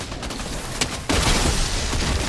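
Gunfire in the Fortnite video game bursts in suddenly partway through, followed by a loud sustained blast of shots and rumble that holds to the end.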